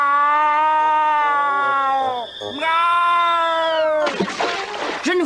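A cat gives long, drawn-out, tonal meows, two sustained cries that bend in pitch, close and loud, followed by a brief noisy scuffle.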